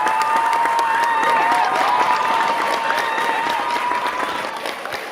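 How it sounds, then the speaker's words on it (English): Crowd applause and cheering sound effect played during a Michigan Wolverines football broadcast show, a dense, loud, continuous clapping roar with a faint tone running through it, tapering slightly at the end. "That is a clapping sound effect."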